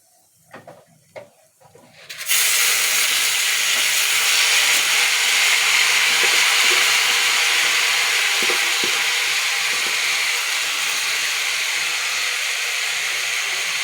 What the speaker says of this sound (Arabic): ونحط الرز ونقلب كده تقليبه، الرز يمسك من الشعرية